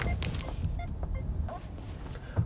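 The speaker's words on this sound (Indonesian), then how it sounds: "Bunyi sennya itu juga unik ya, tidut tidut tidut." A 2023 Mitsubishi XFORCE turn signal gives a repeated electronic two-tone ticking chirp inside the cabin, fairly quiet over the low hum of the moving car.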